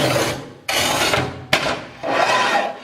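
A Montolit Masterpiuma tile cutter's lubricated scoring wheel is drawn across a ceramic tile in three long, loud, close rasping strokes, each starting abruptly with short gaps between.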